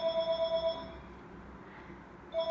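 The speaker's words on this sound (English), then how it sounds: "See, the phone is ringing." A telephone rings indoors with a steady electronic trill, repeating in short pulses, then going quiet for about a second and a half before starting to ring again.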